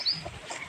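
A brief burst of chicken clucking with a short high squawk at the start, close and moderately loud.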